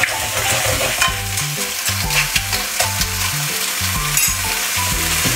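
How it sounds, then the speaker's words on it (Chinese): Pork sizzles and is tossed in a wok with a splash of cooking wine and vinegar, giving constant close frying hiss and stirring scrapes over a steady musical background. "把它翻炒一下。"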